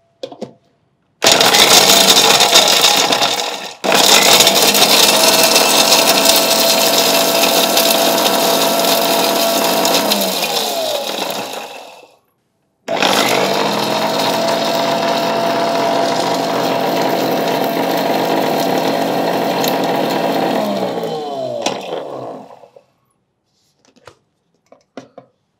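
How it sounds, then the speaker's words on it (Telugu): A kitchen mixer grinder whirs loudly as it grinds roasted fox nuts into powder, running in two long, steady bursts separated by a brief pause before stopping. "ఫస్ట్ పూల్ మకాన్ వేసుకొని మిక్సీ పట్టుకుందాం"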